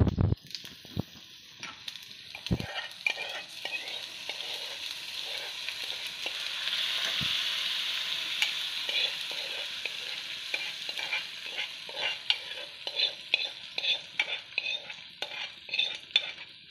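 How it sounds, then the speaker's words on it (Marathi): Leftover dal mixed with sambar cooking in a pan, a continuous bubbling sizzle with steady rhythmic stirring and clinks of a spoon against the metal, close and prominent, no voices. "वरण छान शिजत आहे"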